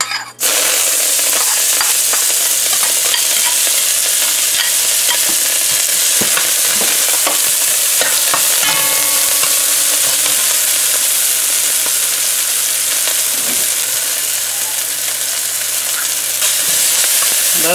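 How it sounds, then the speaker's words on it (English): Seasonings and garlic frying in about three tablespoons of hot oil in a pot for Guyanese snapper fish stew, a loud steady sizzle with occasional stirring scrapes and clinks, no talking. "now we're gonna add the seasonings to fry for the stew"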